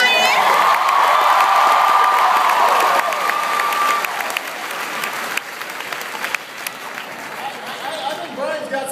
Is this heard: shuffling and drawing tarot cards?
no